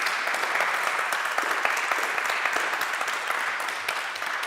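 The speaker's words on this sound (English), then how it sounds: "I'd like a round of applause for the participants." An audience at a theology conference panel applauds the participants, a steady crackle of many hands clapping with distinct individual claps standing out, moderately loud and continuous throughout.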